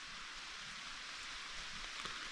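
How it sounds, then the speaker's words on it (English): Steady rain drums on a tarp shelter at night in a mossy forest, a dense continuous patter with a few slightly louder drops, no voices. "It's 3 o'clock in the morning and it's raining."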